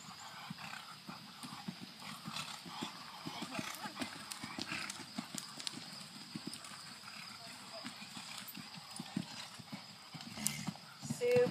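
A Belgian draft horse canters in a fairly rhythmic run of hoofbeats, heard at moderate volume while a rider or instructor talks over much of it.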